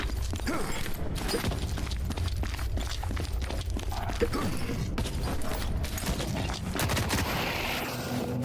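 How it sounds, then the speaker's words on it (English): Rapid SMG gunfire in a video game, dense bursts of sharp shots crackling almost continuously over a loud mix of mechanical clatter and footsteps. "This SMG is making pretty quick work of this guy."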